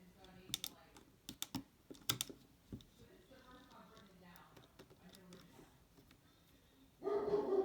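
A dog barks a few times in the background, sharp short bursts early on mixed with clicking keyboard-like taps, while a person nearby talks quietly over the top.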